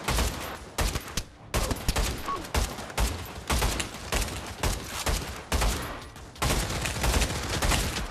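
Gunfire in the VR shooter game Pavlov VR: dense, repeated bursts of shots in irregular clusters, loud and continuous over several seconds with brief gaps.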